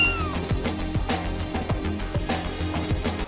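Four kittens in the video game Stray meowing, a string of short high mews repeating roughly every half second, close and clear over a soft game soundscape.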